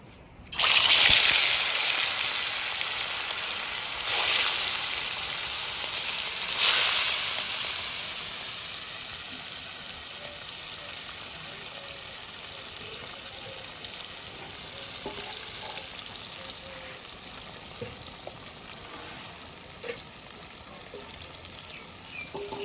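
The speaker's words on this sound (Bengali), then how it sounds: "কড়াইয়ে তেল গরম হয়ে গেছে, এখন এক এক করে মাছগুলো দিয়ে ভেজে নেব।" Pieces of chitol fish sizzle and spit in hot oil in a wok, a loud burst of frying that settles into a steady crackling hiss, with occasional pops and stirs, no voices.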